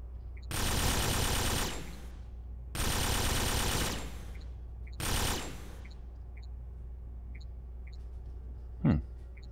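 Turrets in the video game Fallout 3 fire three long, loud bursts of automatic gunfire, each lasting over a second with short pauses between, before everything falls quiet apart from one brief blip.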